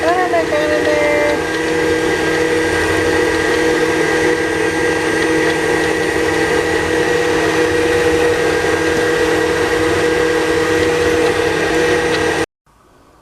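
Electric kitchen mixer running steadily while churning heavy cream into butter and buttermilk, a loud continuous motor whine with a steady hum that stops abruptly near the end.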